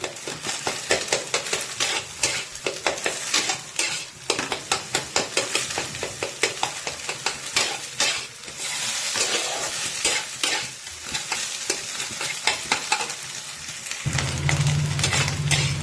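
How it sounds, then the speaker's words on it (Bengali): An egg is scrambled and fried in oil in a pan, with rapid, repeated scraping strokes of a spatula over a constant close sizzle that swells toward the end. "ঝুড়ো ঝুড়ো করে ভেজে নেবো ডিমটাকে আমি।"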